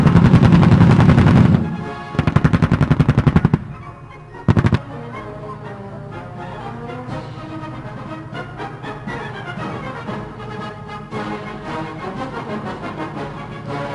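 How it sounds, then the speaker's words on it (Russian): Military grenade launchers with high-arcing trajectory fire at a parade firing range: a dense burst of rapid booming shots, a second burst, one more blast, then continuing distant rumbling detonations and crackle. "Гранатометы с навесной траекторией полета."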